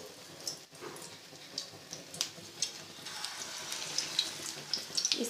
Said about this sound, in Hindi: अब हम इसमें कबाब जो है वो शामिल करते हैं, कबाब फ्राई करना शुरू करते हैं